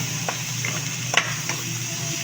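Garlic and onion sauté in a pan for beef spaghetti, a soft continuous sizzle broken by a few light scrapes and taps of a spoon against the pan.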